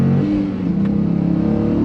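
A 2022 Dodge Challenger Scat Pack with a 6-speed manual revs loudly and close up after a downshift into second, its engine note holding a strong, rising rumble with no talk.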